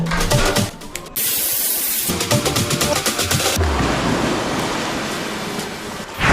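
Loud rushing water spraying continuously from a pool shower with ice-cold water, with a brief drop partway through before the hiss returns, close by.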